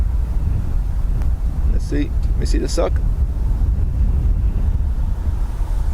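Steady roaring wind buffets the microphone at Dublin Airport during changeable gusts around 25 knots, loud and constant, with a brief spoken remark partway through.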